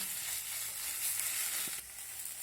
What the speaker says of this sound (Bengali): দিয়ে এখন নেড়ে চেড়ে আমি ভালো করে লাউ পাতার মধ্যে যে রসটা রয়েছে সেটা শুকিয়ে